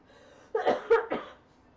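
A short burst of a few coughs, close and fairly quiet, in an otherwise still room.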